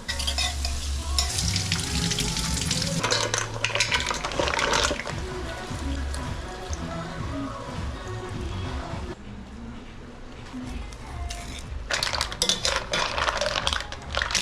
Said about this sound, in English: Butter in our pan. An onion into the butter.